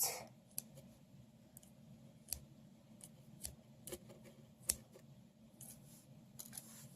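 Scissors snip thread on a small crocheted plush, a few quiet, sharp clicks spaced irregularly against a hushed indoor background.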